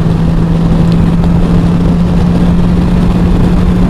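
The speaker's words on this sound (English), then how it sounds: "when the engine, motorcycle engine is on, it's quite loud" A BMW S1000XR motorcycle engine idles close by, a steady, unbroken low drone with an even hum that holds its level throughout, with no voices over it.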